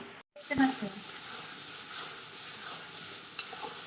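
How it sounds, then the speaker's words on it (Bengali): Meat cooking in a pan gives off a steady, moderately loud sizzling hiss, with a brief clatter near the start and a short dropout just before it. "এখন মাংসটা পাকাচ্ছি"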